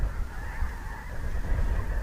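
A flock of snow geese drops onto Pine Coulee Reservoir, honking steadily and overlapping, somewhat distant and continuous over a low rumble of wind.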